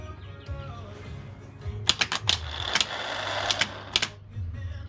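A Toyota 1KZ starter motor spins slowly on a bench test with a low electric hum and a cluster of sharp metallic clicks and whirring bursts in the middle, close by and without speech.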